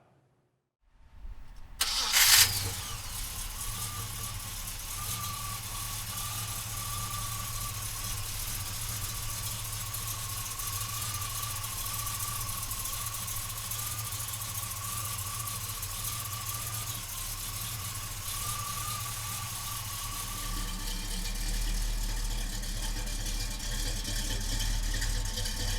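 The big-block 454 in a 1970 Chevrolet Monte Carlo cranks briefly, catches with a loud roar, then settles into a steady, rumbling idle close by for over twenty seconds, with no voices.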